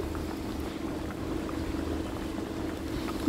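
Egg curry with garam masala and ghee simmers in a pot, a continuous low bubbling and burbling that holds steady throughout, near and moderately loud, with no speech.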